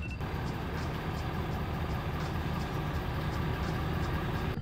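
A truck backing up sounds a steady series of reversing beeps, evenly spaced and moderately loud over a constant engine rumble.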